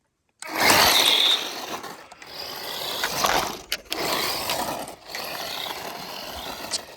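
A cheap DEERC Sandy 1/18 scale RC car drives in bursts, its small electric motor whining and gears rattling close by, with short pauses between runs.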